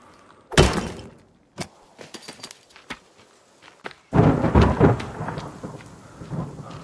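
Thunderstorm in The Forest video game: a loud, close thunder crash rumbles and fades, a few faint knocks follow, then heavy rain breaks in and pours steadily to the end.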